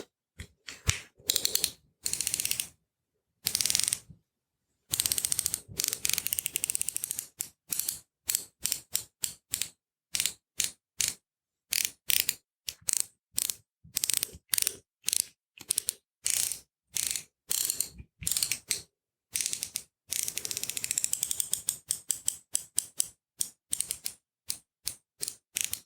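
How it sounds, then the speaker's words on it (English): A socket ratchet tightens sockets with fast, close clicking in short bursts separated by brief pauses, loud and crisp with no talking. "let's tighten up those sockets again to keep them in place"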